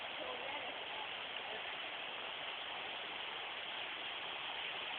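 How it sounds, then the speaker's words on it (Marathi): Steady, dense rushing water fills the whole clip, a broad continuous roar of a large river flowing nearby on the Velha Varoti Singapur trek, with no other sounds standing out. "एक चांगली मोठी नदी दिसते बघा. आणि त्याचा आवाजही येत असेल या शूटिंगमध्ये"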